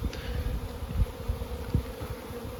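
Honeybees buzz softly in flight near their hives in early spring, a faint, continuous hum with small rises and dips as insects pass nearby, no voices.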